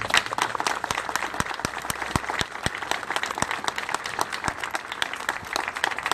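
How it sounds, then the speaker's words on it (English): Sustained round of applause from a ceremony audience in Washington County, Indiana, marking the Bicentennial Torch Relay and the Indiana National Guard; dense, steady clapping with crisp individual claps standing out, continuous and fairly loud throughout. "showing Washington County's appreciation for the Bicentennial Torch Relay, the 200th birthday of our beloved Hoosier State, and the invaluable and historic service of the Indiana National Guard with a big round of applause"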